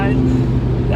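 A 2008 Honda Accord Coupe V6 with a manual gearbox revs hard around 6,000 RPM, a loud, steady, strained engine drone heard from inside the car.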